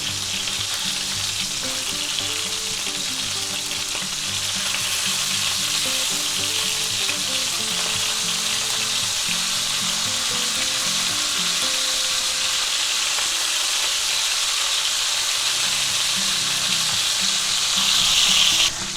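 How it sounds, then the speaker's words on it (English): A chuck roast cooked like a steak sizzles steadily in a hot pan as butter is spooned over it, a dense, continuous frying hiss that stays loud throughout and swells slightly near the end, with no talk. "And let's baste that side with butter."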